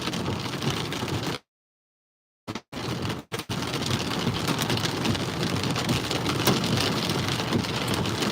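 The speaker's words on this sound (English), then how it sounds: "That's nickel sized hail there" Nickel-sized hail and heavy rain pound down steadily in a thunderstorm on a Saskatchewan highway, a dense, loud roar of impacts, cut briefly by a couple of dropouts.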